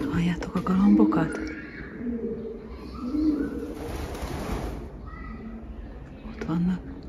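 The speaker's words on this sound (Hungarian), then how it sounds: "Halljátok a galambokat?" Pigeons cooing near an old tower in Bath, England: soft, low repeated coos heard through the clip, mixed with other bird chirps and a person talking over them.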